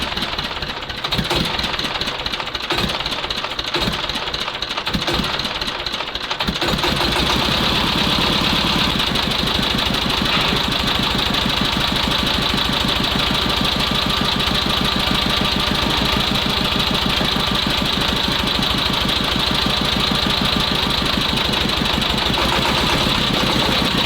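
A T-16 tractor engine runs loud and steady during a clutch test, a continuous rapid knocking drone. Sharper rhythmic pulses sound over it at first, then the running evens out into an unbroken chug for the remainder.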